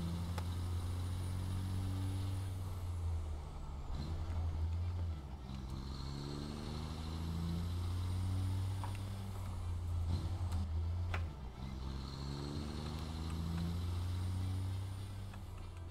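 A large truck drives in the factory-building video game Satisfactory, its low engine drone rising and falling in repeated gear-like sweeps, steady and fairly loud throughout.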